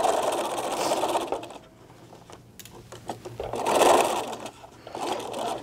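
A sewing machine stitches fabric for a Japanese knot bag in two loud, close bursts of rapid mechanical whirring, separated by a quieter pause filled with small clicks and handling noises.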